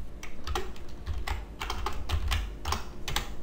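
Rapid keystrokes on a computer keyboard in quick bursts, close and clear over a steady low hum.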